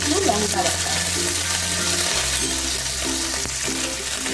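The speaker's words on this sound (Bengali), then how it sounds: "তেলটা গরম হয়ে গেছে এবারে দিয়ে দিচ্ছি অল্প একটু আদা বাটা" Ginger paste sizzling in a little hot oil in a pan, a steady loud frying hiss with faint stirring scrapes throughout.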